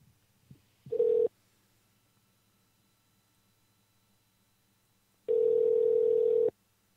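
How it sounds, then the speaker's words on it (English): Skype call ringing with two electronic tones: a short pulse first, then after a pause a longer steady tone lasting about a second, both clean and close against near silence. "I like that Skype rings."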